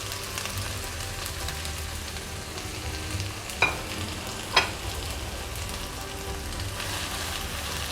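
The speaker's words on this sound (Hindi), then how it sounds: "अब जो हमने प्याज काटा था बारीक, वो इसमें डाल देते हैं।" Finely chopped onion frying in a pan for a spiced potato dish, with a steady close sizzle throughout and two sharp clinks from a utensil partway through.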